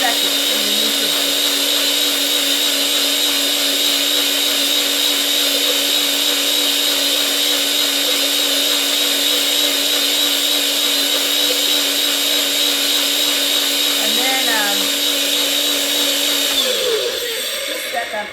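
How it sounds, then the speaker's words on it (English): A blender whirs steadily at high speed, blending watermelon into juice, a loud continuous motor whine held for about seventeen seconds before spinning down. "You want to blend it up for a good 30 seconds in the mixer."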